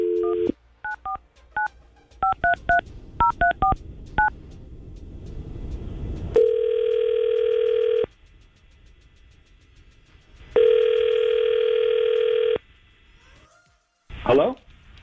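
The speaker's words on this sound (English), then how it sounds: "we're going to try to call David and see if we can get him on the phone." A phone number is punched in as a quick run of touch-tone beeps on a call to a radio station's studio line, followed by two long ringback tones separated by silence, then a short rustle as the line picks up.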